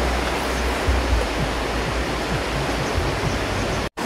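A natural waterfall pours steadily, a dense continuous rushing roar of falling water close by, with no voices, briefly cut off near the end.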